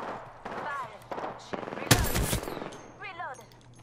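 A short, loud burst of rapid gunfire in a video game breaks out amid other game sounds, with voices talking before and after it.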